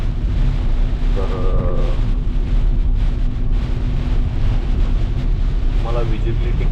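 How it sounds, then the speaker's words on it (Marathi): Heavy monsoon rain pours steadily in the Malshej Ghat mountain pass, heard as a dense, loud, unbroken roar mixed with wind buffeting the microphone, with no pauses from start to finish. "एवढा पाऊस नसतो कारण खूपच पाऊस आहे हा"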